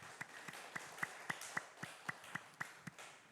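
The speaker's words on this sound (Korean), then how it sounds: "감사의 박수 올려드립시다." Church congregation at a Wednesday evening service clapping in thanks, heard as a quiet, evenly spaced series of about eleven sharp claps in a steady rhythm, somewhat distant.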